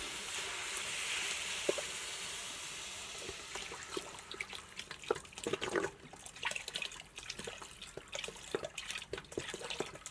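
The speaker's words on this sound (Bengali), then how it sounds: "এখন এখানে আমি তিন লিটার পরিমাণ পানি দিয়ে দেবো" Rainwater, about three litres, poured into a pot of fried rice and masoor lentils for Bengali khichuri, a steady broad splashing rush at first that breaks into irregular drips and sloshes, close by with no talk.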